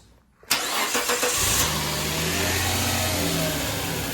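A car engine cranks and catches after a brief quiet moment inside a workshop, revving up with a few quick surges before settling into a steady, loud idle close by, with no talking.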